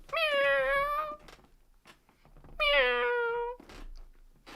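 Two long, drawn-out cat meows, loud and close, separated by a brief pause with faint room noise between them.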